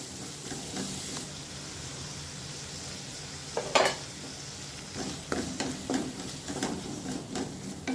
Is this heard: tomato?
yes